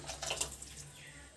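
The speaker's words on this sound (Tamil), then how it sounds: "இப்போ மிக்ஸி ஜாரில் கொஞ்சமாக தண்ணி சேர்த்து" Water poured into a mixer jar in a kitchen while making fish curry, a short, soft splashing trickle at close range, with no talking.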